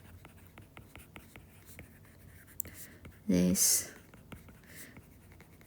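Pen writing out a nuclear equation by hand during a chemistry lecture: soft, steady scratching strokes close by, broken by a brief spoken word in the middle.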